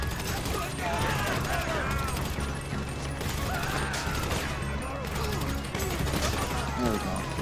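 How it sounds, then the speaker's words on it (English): Gunfire during a survival match in GTA V Online free mode forms a dense, steady clatter of shots that runs the whole time, with faint voices mixed in. "There's gunfire down there."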